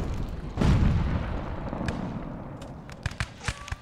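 Cannon fire booms in the colonial-era battle game Rise of Liberty, one heavy blast followed by a rumbling tail and a scatter of sharper distant shots and pops.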